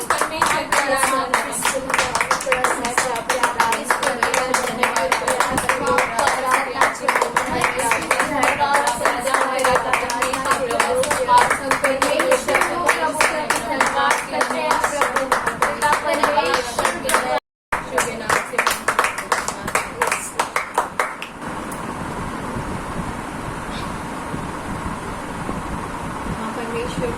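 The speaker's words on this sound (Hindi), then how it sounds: "क्यों ना हम ताली बजाते हुए इस परमेश्वर का धन्यवाद" A congregation at a Friday prayer service claps hands in praise, a loud, steady rhythm of many hands lasting about twenty seconds under voices, then breaking off into quieter room sound.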